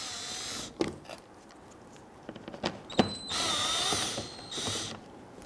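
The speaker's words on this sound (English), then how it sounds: "Use your 10mm socket, loosen and remove these two screws." Power drill or driver with a 10mm socket loosening fender screws on a Toyota RAV4: short buzzing bursts and clicks, then a longer whirring run with rising pitch, fairly quiet.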